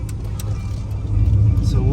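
A lowered 1993 Chevrolet C1500 Indy Pace pickup on 20/22-inch US Mags wheels pulls onto a highway. Its engine drones steadily from inside the cab, then swells louder as the truck accelerates, with a voice faintly present.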